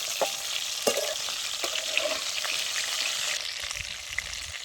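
Stuffed brinjals fry in hot oil with mustard seeds and cumin, sizzling steadily up close while several distinct clacks and scrapes of a spoon stirring them stand out over the crackle.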